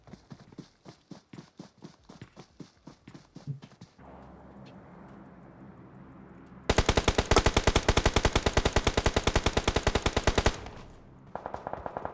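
Automatic gunfire in an online battle royale shooter scrim: bursts of rapid shots, first a looser volley, then a steady roar, then a long, loud, tightly spaced stream, and a final short burst after a pause.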